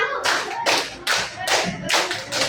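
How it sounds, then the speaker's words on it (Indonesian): Hands clap in a counting game in an Indonesian second-grade classroom, with quick bursts of several sharp claps close by and brief pauses between groups. "Tepuk empat. Tepuk lima."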